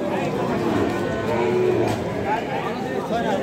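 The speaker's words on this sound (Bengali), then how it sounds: "এই পাশে আমরা ষাঁড় বাছুর দেখছি" Bulls, calves and cows fill a busy Saturday livestock market in Thakurgaon, with a moo rising amid a noisy crowd as people talk throughout.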